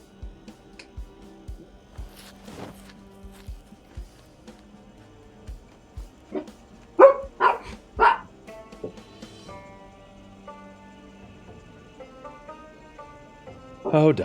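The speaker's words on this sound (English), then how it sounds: "Oh, dogs." Dogs bark in the Project Zomboid video game, a short cluster of sharp barks midway through amid quiet clicks and ambient game sounds.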